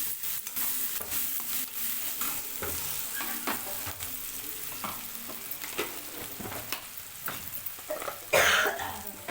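Coriander powder is stirred into a mixture frying in a pan for an okra fry, with a steady close sizzle and repeated scraping stirs and taps, then a louder stir near the end; no talking.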